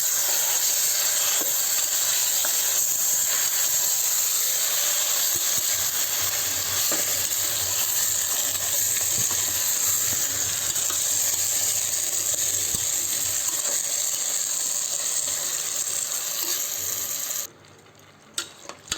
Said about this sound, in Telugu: ఒకసారి కలిపేస్తాం